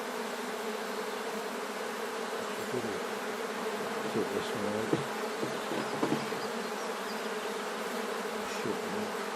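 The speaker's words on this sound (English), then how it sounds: "Oh, that just makes them buzz up, doesn't it?" Honeybees drone in an opened hive, a dense close buzz that swells at moments, while a voice speaks briefly over it.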